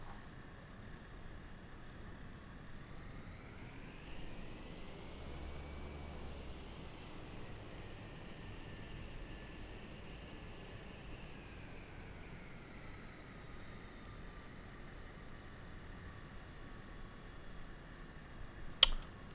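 A light plane's engine hums at a steady idle while taxiing off the runway onto a grass airfield, a faint, even drone with slowly shifting pitch and a sharp click near the end.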